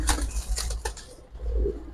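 Kajal Patti pigeons in a loft give a couple of soft coos with brief wing flaps, close by and fairly quiet.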